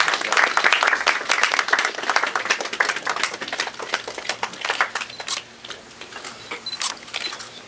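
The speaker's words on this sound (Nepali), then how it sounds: "ताली बजाइदिनु होला।" An audience at the annual convention of a Nepali-American journalists' association applauds, with dense, sustained clapping that thins out toward the end.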